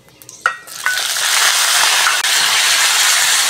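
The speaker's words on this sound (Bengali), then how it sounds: "এবার কেটে ধুয়ে রাখা আমগুলো দিয়ে দেবো।" Cut raw mangoes drop into hot mustard oil with five-spice in a pan, giving a sharp splash and then a loud, steady sizzle that holds until the end, with no talking.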